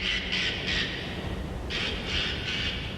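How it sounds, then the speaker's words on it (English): A parrot screams as an audiobook sound effect, two sets of three shrill squawks separated by a pause, over a steady hiss of surf or wind. "I had soon remembered the voice of Captain Flint, and even thought I could make out the bird by her bright plumage"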